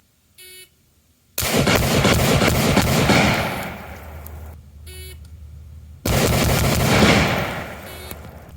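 Pistol shots are fired at a target on a range. Two long rapid strings of loud, close gunfire are separated by a quieter gap, with short electronic beeps sounding before each string.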